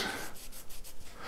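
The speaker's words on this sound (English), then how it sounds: "I'm going to take the Scotch-Brite and I'm just going to lightly go around on the inside of this" Scotch-Brite pad rubbing lightly around the inside of a WP AER fork bushing makes soft, close scuffing strokes in a quick repeated rhythm, faint and alone.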